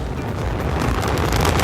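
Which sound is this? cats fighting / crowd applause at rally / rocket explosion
rocket explosion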